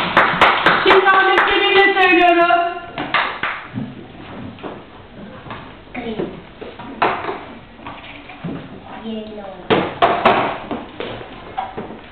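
Five-year-olds in a Turkish kindergarten English lesson clap their hands together in a few close rhythmic bursts, mixed with a child's sung or chanted voice and a teacher talking between the claps.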